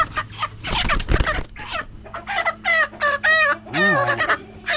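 Young fowl chicks being banded call out loudly up close in a burst of overlapping clucks and rising chirpy peeps, some harsh and some tonal, coming in quick, uneven phrases.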